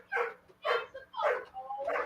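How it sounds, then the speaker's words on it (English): A dog barks four times in quick, evenly spaced yips, fairly faint and somewhat distant, with a low steady hum underneath. "is it a dog barking?"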